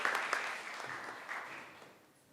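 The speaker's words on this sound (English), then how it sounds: "A round of applause, please." An audience at a writers' open mic claps warmly in a room, steady applause that is fairly faint and gradually fades to quiet.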